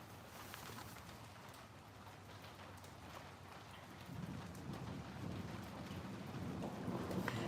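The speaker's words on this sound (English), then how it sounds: "Yes, that's the rain." Steady rain falling outdoors during a storm, a continuous soft hiss of drops that grows slightly louder toward the end, faint and distant with no talking.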